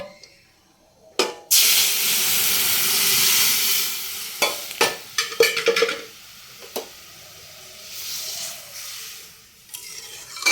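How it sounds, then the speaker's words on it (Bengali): Dry red chilli and nigella seeds tempering in hot oil for dal, a sharp burst of sizzling that starts abruptly, then irregular clinks and stirring taps as the spluttering settles and swells again faintly. "ডালে একটু শুকনো লঙ্কা আর কালো জিরে ফোড়ন দিয়ে দিলাম।"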